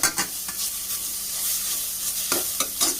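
Crushed garlic and ginger sautéing in a hot pan for a Kerala-style chickpea dish, a bright continuous sizzle punctuated by a few sharp scrapes and stirs of a spoon, close up and without any voices.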